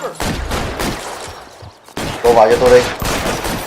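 Gunfire in the video game L.A. Noire: several sharp shots and quick bursts close by, mixed with someone speaking, with a short quieter lull in the middle.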